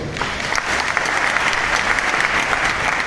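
Sustained, dense audience applause for Prashant Singh at a Vestige gathering, loud and steady throughout with no voices standing out.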